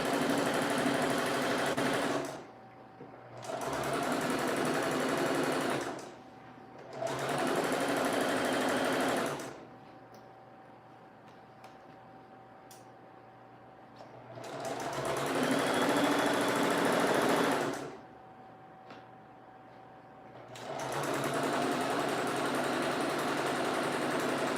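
A sewing machine stitches a summer dress seam in bursts of rapid, steady whirring, running for several seconds at a time and then pausing, close and clear with a faint hum between runs.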